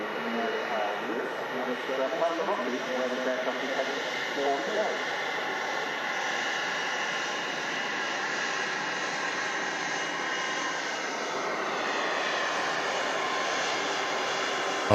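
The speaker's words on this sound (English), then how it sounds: "That Dreamliner climbing away from Manchester Airport." A Boeing Dreamliner jet climbing away from Manchester Airport: a broad, steady engine roar that holds on for the whole stretch, with someone talking over it at the start.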